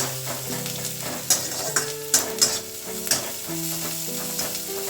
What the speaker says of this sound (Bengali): এবার মশলাটাকে ভালো করে পেঁয়াজটাকে ভাজতে হবে কাঁচা যাতে না থাকে